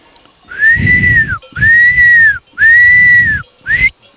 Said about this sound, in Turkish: Mesela önüne götüreceksen ıslık çalarsın.